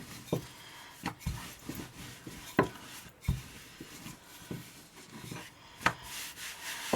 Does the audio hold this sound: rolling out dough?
yes